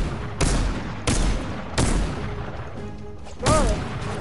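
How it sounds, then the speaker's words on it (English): Gunfire in Fortnite, four loud sharp shots spaced irregularly about a second apart, each with a quick booming decay, the last followed by a brief squeaky tone. "David, start shooting it."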